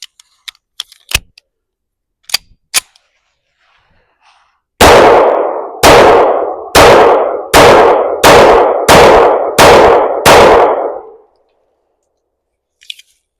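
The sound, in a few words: gunshots from .45 ACP and .410 slugs hitting pumpkins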